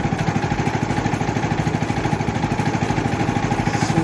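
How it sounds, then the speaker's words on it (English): Four-stroke engine on a Woodland Mills HM130max sawmill running at low RPM, a close, steady rhythmic putter with evenly spaced firing pulses and no talk. "Once the RPMs pick up, it gets a lot louder, but this is fantastic. Good old 4-stroke."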